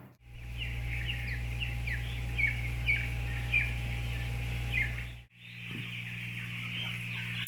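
Young chickens in a poultry coop cluck and chirp as a flock, a steady layer of overlapping calls over a constant low machine hum, briefly cutting out and then resuming.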